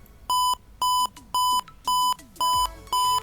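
Buzzer in an embedded system simulation, sounding as a steady electronic beep repeated six times in an even on-off rhythm, each tone about a quarter second long, loud and clear with no talk.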